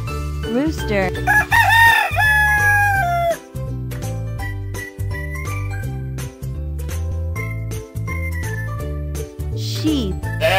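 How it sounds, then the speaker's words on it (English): A rooster crows once near the start, loud and drawn out, over bouncy background music with a jingling beat. "Rooster."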